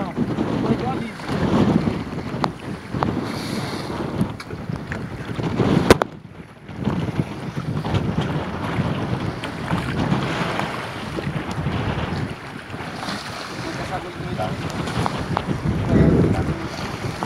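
Strong wind roars across the microphone at sea on a jangada fishing raft during high tide, a steady gusting rush with water and waves beneath, continuous throughout with a brief drop midway.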